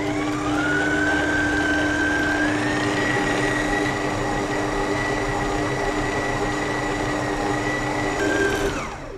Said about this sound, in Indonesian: Kita akan mix dengan medium speed sampai ke cepet,